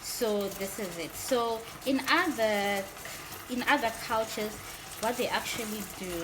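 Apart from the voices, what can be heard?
meat frying in a pot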